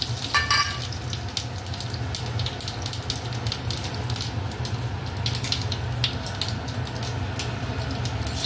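Cumin seeds and bay leaf crackle and sizzle in hot oil left from frying fish, a steady close hiss with sharp pops that burst loudest at the start.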